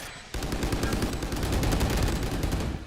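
Rapid automatic gunfire from the shooter game Valorant rattles in one sustained, loud burst of closely spaced shots lasting a couple of seconds before cutting off.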